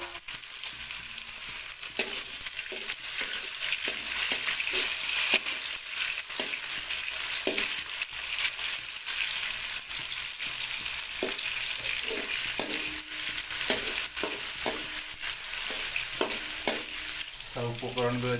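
Onion, tomato and chopped vegetables frying in a pan with a steady sizzle and repeated spatula stirring and scraping knocks throughout.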